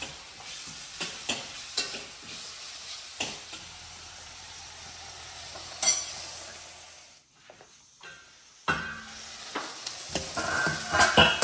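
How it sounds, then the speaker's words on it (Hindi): Chopped onions sizzle in hot oil with cumin in a pan while cooking kidney beans. There is a soft continuous hiss with repeated scraping stir strokes, a brief lull, then louder crackling near the end. "अब इसमें डालता हूँ मैं प्याज। और प्याज को कुछ देर के लिए अच्छे से भुनने देता हूँ।"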